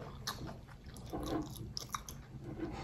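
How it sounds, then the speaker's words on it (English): Crunchy chewing of a homemade egg roll, with soft crackling bites and mouth noises close to the mic, faint and steady with no talking. "Do you hear the crunch?"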